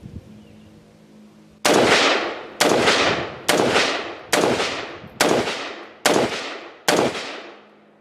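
Seven sharp, loud rifle shots ring out from a Cru Arms Temp 556 short stroke piston rifle, fired at a steady pace about one per second, each followed by a fading outdoor echo, with a quiet lead-in before the first shot.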